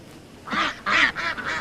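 A voice imitating a duck, giving a short series of three nasal honking quacks, close and loud.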